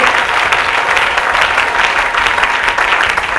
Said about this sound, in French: Can you just help me clap your hand for Jesus